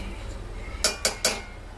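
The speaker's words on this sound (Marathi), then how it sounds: "ते शेंगदाणे भाजून ठेवले ते पण टाकते।" Roasted peanuts tumble into a cooking pan for a fenugreek leaf bhaji, giving three quick, sharp clattering bursts close by against a quiet kitchen background.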